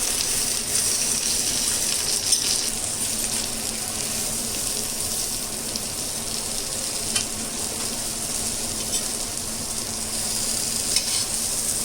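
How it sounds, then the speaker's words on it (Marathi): Fish frying in a pan for a Malvani-style fish fry, a loud, steady, hissing sizzle that continues close up throughout, with no talking. "आता परतवलेली आपण दुसऱ्या बाजूने आता फ्राय होणार आहे"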